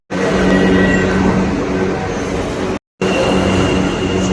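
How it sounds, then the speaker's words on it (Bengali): A metro train rumbles loudly and close at Electronic City station, a steady roar broken once by a short silent gap. "আমাদের ইলেকট্রনিক সিটি মেট্রোটা অনেক দিনই হয়েছে, কিন্তু আমরা এই ফার্স্ট টাইম চাপলাম"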